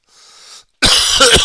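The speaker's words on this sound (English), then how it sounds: "I'm coughing a furball on that one." One person coughs and clears the throat: a soft, breathy throat-clearing, then a brief pause and a loud, harsh burst of coughing close up.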